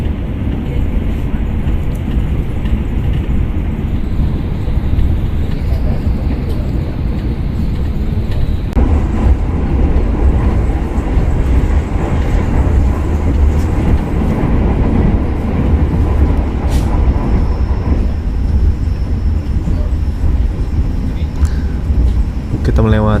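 A Taksaka executive passenger train runs on rails with a steady, loud low rumble and rolling noise throughout, including faint clatter and brief squeals as it crosses a bridge.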